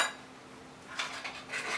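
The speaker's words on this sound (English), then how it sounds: "And you stir that up." A fork stirs and scrapes a lasagna seasoning mixture with Italian rosemary in a bowl, giving a few soft, close clinks and scrapes at a quiet level.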